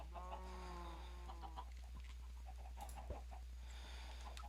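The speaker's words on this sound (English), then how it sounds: "A ton of chickens." A flock of Minecraft chickens clucking in a survival-mode farm: a few faint, soft game clucks over a steady low hum, sparse and intermittent with no talking.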